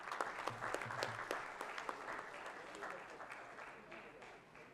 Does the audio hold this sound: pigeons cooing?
no